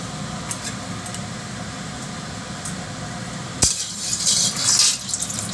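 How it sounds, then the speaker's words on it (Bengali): Cooking oil poured into a karahi before frying fish, a steady wash of sound followed by a sharp tap and a brighter, louder pouring rush toward the end. "কড়াইতে তেল দিয়ে দেবো"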